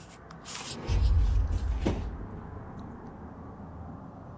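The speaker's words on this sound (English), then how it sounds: "One of the drawers begins to slowly open all by itself." Bedroom drawer sliding open by itself in a house, a brief wooden scraping rumble rising then fading, heard fairly close against faint room noise with no talk.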